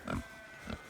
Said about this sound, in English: I'm just sort of partway through feeding the pigs